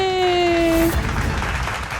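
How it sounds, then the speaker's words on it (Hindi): In a Hindi TV drama scene before a truth-or-dare game, a brief sustained musical sting cuts off and gives way to a burst of moderate, continuous group applause. "तालियां।"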